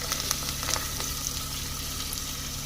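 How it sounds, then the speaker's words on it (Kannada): Green chilies fry in hot oil with coriander leaves, a close, continuous crackling sizzle with small sharp pops scattered through it, moderate in level and alone without talk. "ಇವಾಗ ಇಲ್ಲಿ ಮೆಣಸಿನ್ಕಾಯಿನೂ ಎಣ್ಣೆದೊಳಗೆ ಫ್ರೈ ಆಗತ್ತು ರೀ"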